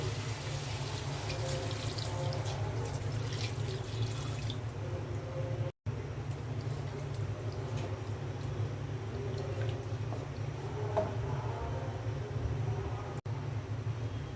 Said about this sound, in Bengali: আর দিয়ে দিচ্ছি পানি